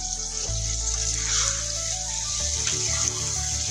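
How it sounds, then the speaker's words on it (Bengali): Water is poured into a pan of mustard fish curry, a steady close gushing and splashing stream that runs continuously throughout, with no talking. "এখন কিন্তু আমি এখানে পরিমাণ মতো একটু জল দিয়ে নিচ্ছি।"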